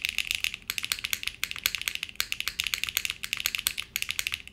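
Mechanical keyboard switches with ABS keycaps, on a Mode Envoy board with HMX Xinhai switches, typed on up close: quick, dense bursts of crisp clacks with brief pauses between runs and no voices.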